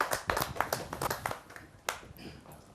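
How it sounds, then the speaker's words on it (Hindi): An audience at a Hindi kavi sammelan poetry gathering claps to welcome a poet, a short burst of fairly faint, scattered applause that thins out into a few last claps. "जोरदार तालियों के साथ हम उनका स्वागत करें।"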